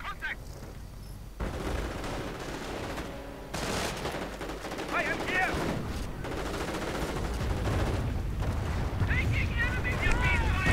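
Rifle, sniper and artillery fire in a World War II real-time strategy game, with bursts of shots and booming impacts against bunkers and supply lines, building louder over the span and mixed with scattered game sounds.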